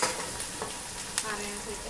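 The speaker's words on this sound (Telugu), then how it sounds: "ఆనియన్స్ ఇంకా కొంచెం గోల్డెన్ కలర్ వచ్చి వేగాలండి." Onions sizzle in hot oil in a pan as they fry toward golden for a chicken curry, with a constant close crackle and a few light stirring scrapes, one of them sharper than the rest.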